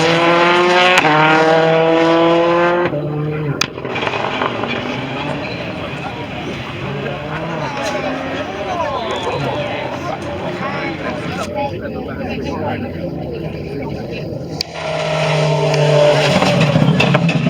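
A Ford Escort Cosworth rally car driven by John Peck revs and accelerates hard, loud engine notes rising at the start and end, with people talking over quieter stretches in between.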